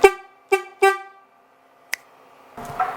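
Denali Sound Bomb air horn on a motorcycle blasts three short loud honks in quick succession, then a brief click, followed by some rustling handling noise near the mic.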